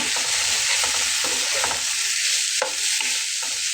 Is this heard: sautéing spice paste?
yes